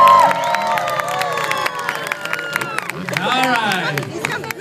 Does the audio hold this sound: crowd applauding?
yes